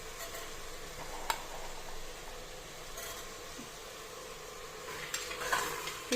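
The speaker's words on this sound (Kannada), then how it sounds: "ಎಲ್ಲ ಹಾಕಿ ಚೆನ್ನಾಗಿ ಫ್ರೈ ಮಾಡ್ಕೊಳ್ಳೋಣ" Spices and green peas fry in a pan with a soft sizzle, punctuated by a few sharp clicks and scrapes of stirring, fairly quiet and close.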